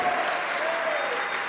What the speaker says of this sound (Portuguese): Vamos aplaudir esse Deus maravilhoso.